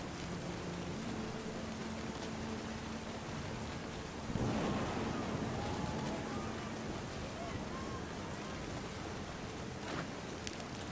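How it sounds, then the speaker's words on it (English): Thunder rumbles in the game What Remains of Edith Finch, a low steady roll under rain with a louder swell about midway, while a voice talks over it. "The thunder sounded much too close and full of angry power"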